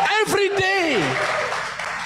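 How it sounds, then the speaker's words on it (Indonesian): A church congregation breaks into a soft wash of applause that follows a preacher's raised voice and lingers briefly. "Kita harus berikan penghormatan kepada dia dan tepuk tangan kepada dia"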